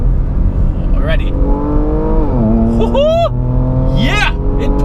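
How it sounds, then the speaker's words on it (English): A Porsche Macan Turbo with its exhaust valves open, the engine pulling hard through the gears, pitch climbing and dropping with each shift, loud and close, with someone talking over it. "the valves in the exhaust open up"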